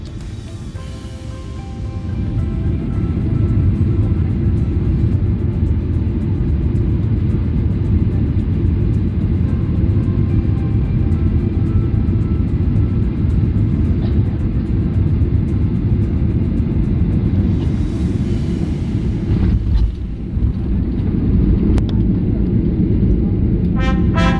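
A Ryanair Boeing jet comes in to land, its engines a loud, steady roar filling the cabin from start to finish with only a brief dip near the end.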